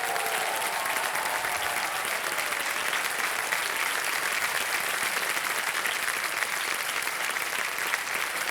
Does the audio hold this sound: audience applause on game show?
yes